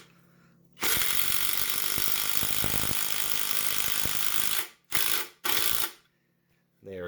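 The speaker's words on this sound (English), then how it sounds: "let's get this 3-inch deck screw in there. Be a little bit noisy as we impact this in here." An impact driver sinks a 3-inch deck screw in loud, rattling hammering bursts: one long run of about four seconds, then two short bursts and a final start, all close up with no talking.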